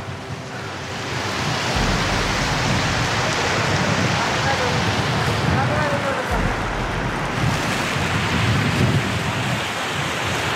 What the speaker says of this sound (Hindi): वसुधारा वाटरफॉल